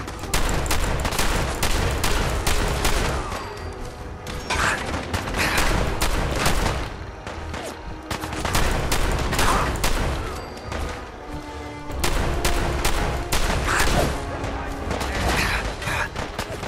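Sustained gunfire from the video game Fallout 4 Far Harbor, with dense volleys of rapid shots and booms running throughout, loud and close, with only brief lulls and faint talk underneath.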